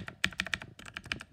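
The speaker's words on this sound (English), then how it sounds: "These are thock switches." Thocky mechanical keyboard switches typed in a steady run of deep, rounded keystrokes with a muted clack, close and fairly loud, in two quick bursts with a brief gap between them.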